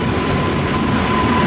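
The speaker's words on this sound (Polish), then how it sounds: "Pociąg Intercity Podlasie." Loud, close noise of an Intercity Podlasie passenger train at Łowicz Główny station in wet weather, with a continuous rumble and rolling wheel clatter, plus a faint thin squeal running through it.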